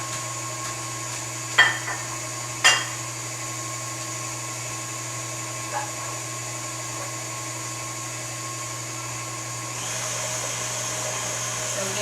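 Banana bread batter being mixed in a home kitchen gives a steady, even whirring drone, with two sharp knocks near the start and a faint tap later.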